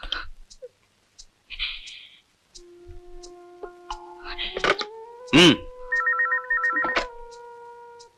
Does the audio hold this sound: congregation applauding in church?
no